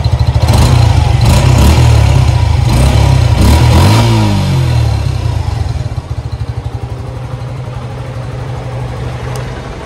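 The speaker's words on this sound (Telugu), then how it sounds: "సో ఒకసారి ఎగ్జాస్ట్ నోట్ వినండి." A Suzuki Gixxer 150 SF motorcycle revs loudly up close, a few sharp throttle blips in the first seconds, then the revs fall away and the engine settles into a steady, thumping idle.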